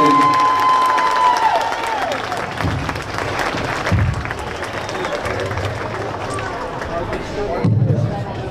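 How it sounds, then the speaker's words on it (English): Audience applause and cheering for a girls varsity basketball team in a gym, a steady crowd roar of clapping with a brief tone at the start and chatter mixed in. "if you could give them one final round of applause"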